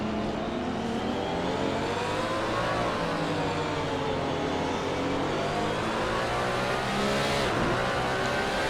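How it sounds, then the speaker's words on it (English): Race car engines from Porsches chasing a McLaren in a racing game drone steadily, with pitch rising and falling through gear changes and corners, loud and continuous with no talk. "2 Porsches in hot pursuit of a McLaren here."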